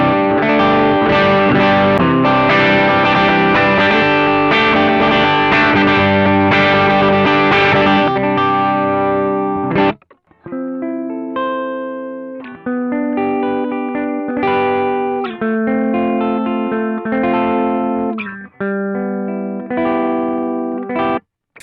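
Electric guitar played through a BOSS OD-3 overdrive pedal with the gain set to zero, giving a lightly driven, slightly dark tone; a sustained chordal passage, a brief pause near ten seconds, then choppier picked phrases, loud and with no talking.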